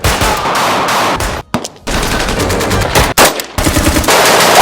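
Loud, continuous rapid-fire machine-gun bursts from the action film Extraction 2, broken only by two brief pauses before the fusillade resumes.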